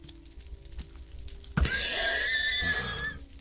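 A withering spirit horse from modded Minecraft lets out a single wheezy neigh after a sharp thump, the whinny drawn out for over a second against faint game ambience.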